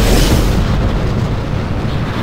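Rocket launch at full throttle in the video game Kerbal Space Program: a loud, continuous roaring rumble of engines dominated by low frequencies, steady throughout and slightly easing toward the end.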